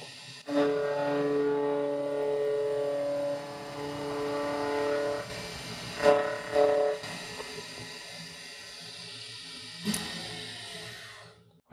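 Milling machine cutting the last flat surface on a workpiece set up for direct indexing, a steady motor whine with harmonic tones, then rising scraping cutter noise in bursts and a sharp clatter near the end.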